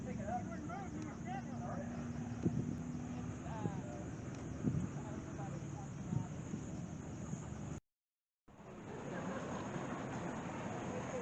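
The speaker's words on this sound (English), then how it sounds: "this is the tractor parade" Gas and steam tractors rumble along in a parade at the Kansas Steam Engine and Gas Tractor Show, a steady engine drone with intermittent chugging and a brief cutout, voices talking faintly over it.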